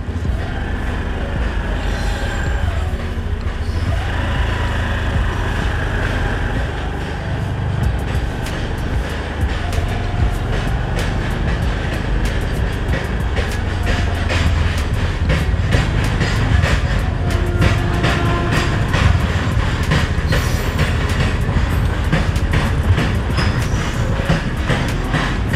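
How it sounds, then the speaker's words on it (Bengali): A freight train rumbles along a railway embankment overhead while someone passes through the underpass below, its heavy low drone and rapid clickety-clack of wagons continuing loudly and unbroken for the whole stretch. "উপর দিয়ে মালগাড়ি যাচ্ছে, নিচ দিক দিয়ে চলে যাচ্ছি।"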